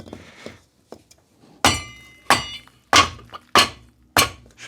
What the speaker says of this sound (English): Block of wood and a bigger hammer.